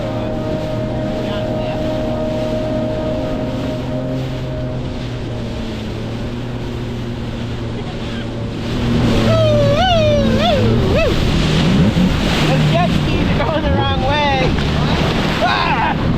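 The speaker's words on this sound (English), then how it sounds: "Those jet skis are going the wrong way, right?" WaveRunner jet skis riding out on open water, a steady engine drone mixed with wind and spray that swells louder about halfway through as the craft picks up speed.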